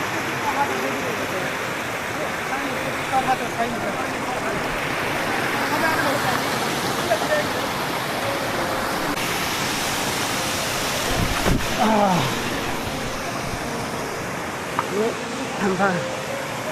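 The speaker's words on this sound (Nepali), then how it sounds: "अलि नजिकबाट अवलोकन गरौँ न बैकुण्ठ तालको झरना।" Waterfall at Baikuntha lake, a continuous broad roar of falling water mixed with wind buffeting the microphone, steady and fairly loud, with a brief rumble near the end.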